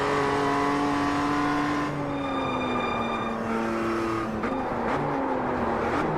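A race car in the iRacing sim brakes into a left hairpin, its engine note dropping through downshifts before revving back up on the throttle, steady and loud with a brief tire squeal.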